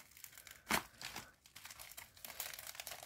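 Paper crinkling and tearing up close as an envelope from Canada is carefully opened during an unboxing, with one sharp rip followed by quieter rustles.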